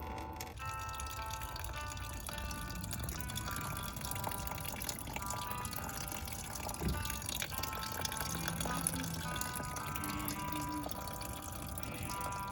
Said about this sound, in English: So we've drained the coolant.